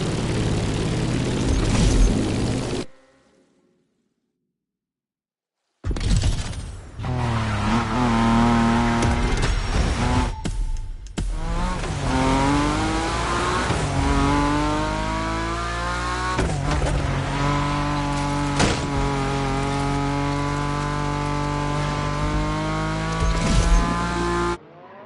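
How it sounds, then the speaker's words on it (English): A BMW Z4 driving in The Crew Motorfest, its engine note rising and falling through gear changes, loud and close, cutting out briefly near the start before returning strong. "Indeed, the BMW Z4, the perfect ride for the winding road through nature you're about to start."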